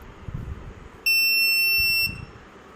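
A loud, steady electronic buzzer tone from a water level indicator sounds for about a second, then cuts off, with low background rumble before and after.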